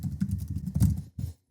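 Rapid keystrokes on a computer keyboard clatter close by in a quick burst, then stop briefly before a couple more taps follow.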